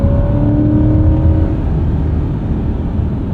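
A 2024 Chevrolet Corvette E-Ray hybrid with a V8 and electric drive accelerates, giving a steady, loud engine drone heard from inside the car, with a rising tone early on that fades into a constant roar.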